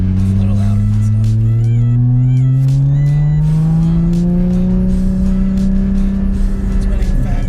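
A 2016 Porsche Cayman GT4 (981) with a loud sport exhaust pulls hard while driving, its engine note climbing steadily in pitch through a long continuous acceleration, close and dominant throughout.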